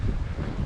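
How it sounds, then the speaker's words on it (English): Wind gusts across an exposed heather and woodland trail, buffeting the microphone with a loud, steady low rumble and no voices. "It's quite windy, as you can probably hear"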